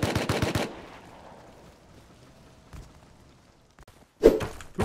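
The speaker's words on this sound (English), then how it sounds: "both players traded shots" Gunfire exchange in the Rust video game: a rapid burst of loud shots at the start, a quieter stretch with scattered faint thuds, then another sharp cluster of shots near the end.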